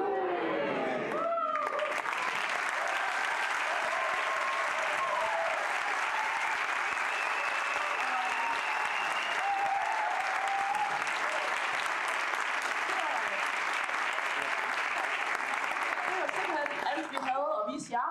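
An audience applauds at a Danish science show, steady, full clapping filling the room for the whole stretch, with faint voices and a few cheers mixed underneath.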